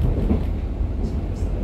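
EMU723+EMU724 local electric train departing a station on Taiwan's North-link line, giving a steady low rumble of rolling wheels and motors close by, with no one speaking.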